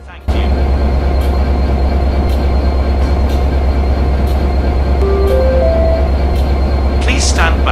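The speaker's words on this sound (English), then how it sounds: "The train now approaching the platform is a GCR regional service." Class 67 locomotive running in battery mode in a train simulator game, a steady loud hum and rumble throughout with a brief rising electronic tone partway through, announcement-style speech near the end.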